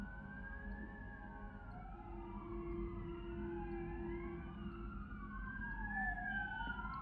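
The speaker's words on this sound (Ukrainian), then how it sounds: "Пожарні може кудись інакше їдуть." Fire engine sirens wail and sweep up and down over a steady road rumble, lingering at moderate distance as the emergency vehicles pass through the streets with no voices.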